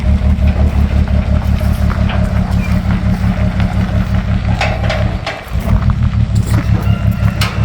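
A massive 1960s LeRoi air compressor on a heavy-duty trailer runs with a loud, steady, loping engine throb that dips briefly near the end before resuming, close and without talk.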